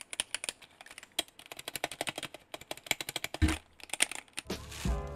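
Keys clatter on a 60% computer keyboard in quick uneven bursts of close, crisp clicks, ending in a few heavier knocks and handling rustles, with no talking.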